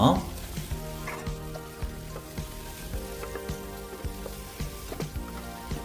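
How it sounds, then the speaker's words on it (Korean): Onion, chili, green onion and garlic stir-fry over medium heat on a commercial two-burner stove, with steady sizzling and frequent scraping stir strokes throughout, close and continuous. "업소용 2구짜리 화구에서 중불로 갔다가 지금 자, 야채를 볶아주고 있습니다"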